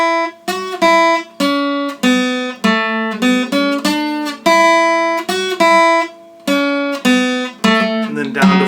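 A violin plays the fiddle tune Britches Full of Stitches in short, detached phrases of bright bowed notes, close and solo with no talking.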